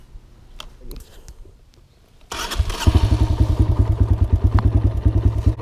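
A dirt bike engine starts up and revs in a rapid, loud, throbbing rhythm as a rider works on getting the bike up into a wheelie, close by, after a quieter stretch of faint clatter.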